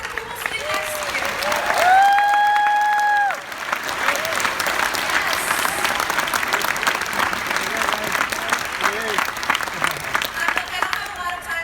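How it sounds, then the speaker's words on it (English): Conference attendees clap for the people seated next to them at a personal finance event, a loud round of applause that continues steadily, with a brief whoop or tonal cry early on. "how about a round of applause for the people sitting next to you?"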